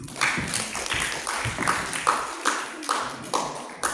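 A debate audience gives scattered applause after a speaker, heard as a thin run of separate, evenly spaced hand claps of moderate loudness in a quiet hall.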